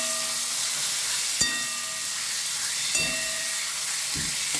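Marinated chicken frying in a pan for a Bengali minced-meat and chickpea curry gives a steady soft sizzle and hiss, with a few faint clinks of stirring.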